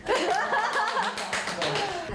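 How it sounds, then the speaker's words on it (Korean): A small group claps during a friendly office welcome, with lively voices and a chuckle mixed in over the patter of hands. "박수!"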